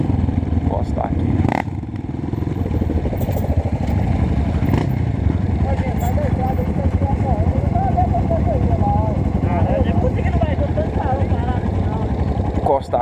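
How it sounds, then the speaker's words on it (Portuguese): A group of sixteen trail dirt bike motorcycles rides along a road together, engines buzzing and droning loudly and continuously up close, with a voice speaking over the noise. "A turma aí, ó, tem 16 motos no rolê."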